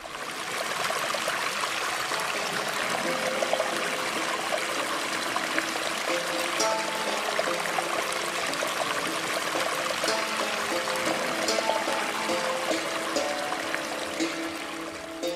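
Water flows steadily through the restored Aynadamar irrigation channel, the old acequia at the edge of Granada, with a continuous close trickle and gurgle that stays at an even level and has no voices over it.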